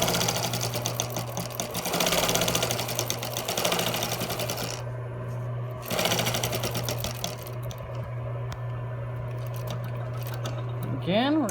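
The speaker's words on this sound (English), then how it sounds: "we're going to stitch to the end here. And then we're going to sew along this edge." A sewing machine stitches a fabric medical mask cover in steady bursts, its hum and rapid needle clatter running in close, even runs with brief pauses between seams.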